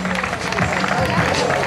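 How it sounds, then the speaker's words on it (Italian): Sustained applause from an audience greeting a newly crowned winner at a Miss Trieste beauty pageant, a dense steady wash of clapping with crowd noise and voices mixed in. "lunghissimo questo applauso per la neo vincitrice del titolo"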